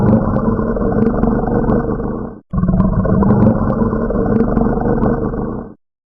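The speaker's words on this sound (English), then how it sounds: "A lion roars." A lion roars in two long, deep, rumbling bursts separated by a brief gap, loud and close, with no voices over it.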